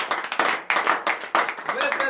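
A church congregation at a morning prayer service claps in quick, uneven bursts while voices call out and acclaim over the clapping.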